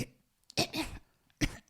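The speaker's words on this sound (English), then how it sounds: "and start to cough." A person coughing in two harsh, close bursts with a short gap between them, apparently from post-nasal drip irritating the throat.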